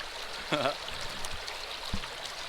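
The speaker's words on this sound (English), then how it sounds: "Don, of course, is still pouring stuff down his Keen sluice over here" Water and gravel pouring down a Keen sluice outdoors, a steady, soft rushing trickle of flowing water with a couple of brief splashy clunks as material drops in, moderately quiet.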